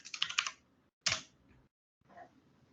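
Someone types on a computer keyboard: short bursts of quick, crisp key clicks separated by pauses, fairly faint and close, with no talking.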